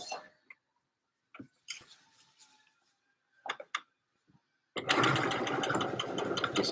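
Sewing machine stitching a sleeve onto a dress, starting up near the end as a close, steady whir after scattered clicks and fabric handling.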